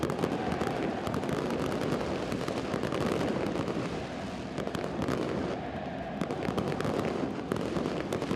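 Fireworks bursting over Estadio Cuscatlán during a Concacaf League football match between Alianza FC and LD Alajuelense, a dense, continuous crackle of loud pops and bangs with no pauses.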